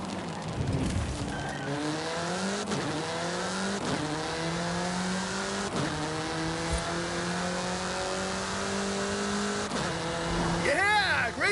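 A car accelerates hard at speed along a countryside road, its engine climbing through repeated rising gear sweeps with brief dips at each shift, loud and close, with talk over it.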